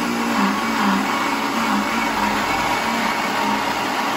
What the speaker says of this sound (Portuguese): Meu liquidificador é fraco, gente. Não tem potência.